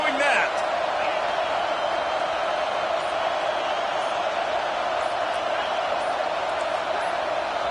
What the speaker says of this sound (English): They challenge this crowd to bring the energy,